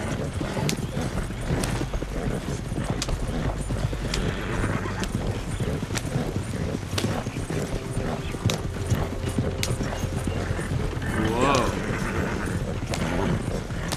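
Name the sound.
horses galloping, clip-clop hooves in Red Dead Redemption 2 video game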